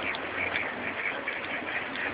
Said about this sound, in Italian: Rissa tra papere.